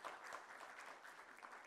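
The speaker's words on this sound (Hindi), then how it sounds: "जोरदार तालियां हो जाएं" Audience applause at a celebrity anti-tobacco awareness event, a steady even patter of many hands clapping throughout, moderately loud and without talk.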